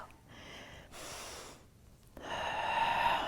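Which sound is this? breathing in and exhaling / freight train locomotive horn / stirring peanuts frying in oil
breathing in and exhaling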